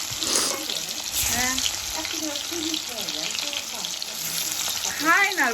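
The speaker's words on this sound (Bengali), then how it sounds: "এবার আলুগুলো ছেড়ে দিচ্ছি" Potato pieces drop into hot oil and fry with a bright, continuous sizzle, joined by faint warbling tonal sounds and a few clinks in the background.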